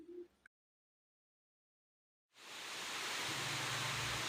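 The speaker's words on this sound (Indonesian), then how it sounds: "Di sini kebetulan hujan deras teman-teman, belum bisa tidur." Heavy night rain pours down steadily outside a hotel room in Bandungan, Semarang, a dense hiss rising after a brief silence and holding loud and continuous with no talking.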